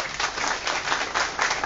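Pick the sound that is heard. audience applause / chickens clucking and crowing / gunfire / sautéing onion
audience applause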